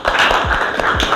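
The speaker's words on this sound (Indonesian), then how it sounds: "Tepuk tangan." Classroom students clapping hands together during a lesson, a brief burst of dense claps filling the room under some low background noise.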